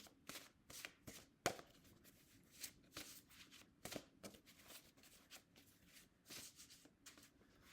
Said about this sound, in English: This one keeps on sticking out of the deck when I'm shuffling